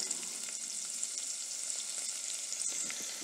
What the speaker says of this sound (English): We saute the onion on low heat